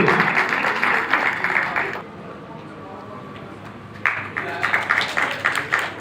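An audience at a government event in India applauds in two loud bursts of clapping separated by a quieter lull of about two seconds.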